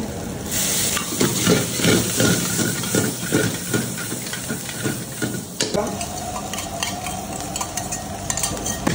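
Onions, capsicum and mixed vegetables frying over a high flame for mixed fried rice, with a loud, steady sizzle and rhythmic scraping stirs that give way to a continuous hiss of steam.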